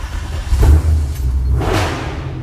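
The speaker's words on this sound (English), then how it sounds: "This thing has the best exhaust ever." A nitrous-equipped muscle truck with a full manual valve body barks through its exhaust at a drag strip, loud and close, with two sharp rev surges and a low rumble between them.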